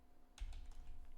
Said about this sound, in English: then type a new name,